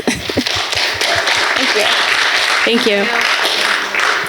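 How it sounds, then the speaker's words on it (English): An audience at a mental health talk breaks into applause, a steady wash of clapping beneath a brief spoken thanks, filling the room from start to end. "Can we give her a round of applause?"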